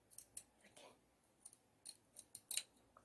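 Scissors trim a ramie fabric seam close to the stitching, a series of crisp, close snips at an uneven rhythm, faint against a quiet background.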